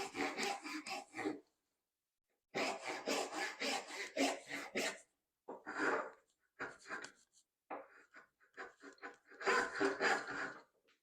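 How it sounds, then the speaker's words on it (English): A dovetail guide saw cutting a wood dovetail by hand, heard as close bursts of rasping back-and-forth strokes in several runs separated by short pauses. "When I say pinch it, I'm talking about the dovetail guide saw, loose grip."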